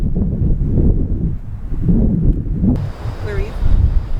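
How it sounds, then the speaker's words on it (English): A windstorm in the Guadalupe Mountains buffets the outside of a truck, heard as loud, gusting rumble and roar that swells and drops unevenly, with muffled voices faintly underneath. "We are in the middle of a windstorm in the Guadalupe Mountains."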